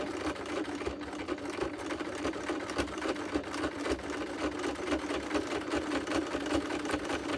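A sewing machine stitches around the raw edges of a fabric-decorated wedding journal cover, its motor whirring steadily and continuously throughout, close and fairly loud with no talking.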